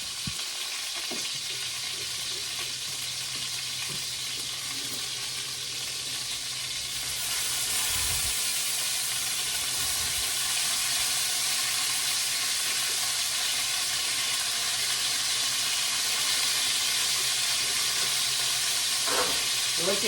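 Chicken pieces browning in a frying pan with onions, a continuous loud sizzle that grows denser partway through, with occasional faint clinks and stirring.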